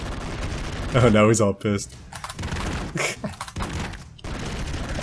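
Rapid bursts of enemy gunfire crackle in the side-scrolling action game Broforce, sharp rattling volleys mixed with game effects while someone talks over them.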